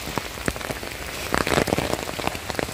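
Heavy rain pours steadily in a mountain area, a dense, loud hiss with scattered heavier drops and splatters throughout, heard close with no voices.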